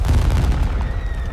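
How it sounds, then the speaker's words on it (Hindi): Cannon fire in a dramatized historical battle scene, a heavy booming blast with a deep rumbling tail, loud and close, standing alone without talk. "तोपें चलती रहनी चाहिए।"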